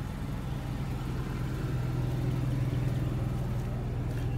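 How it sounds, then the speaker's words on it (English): A Ford V10 engine in a motorhome runs steadily at idle, a low, even rumble that holds constant throughout with no talking over it. "It's got the Ford V10. Runs very nice."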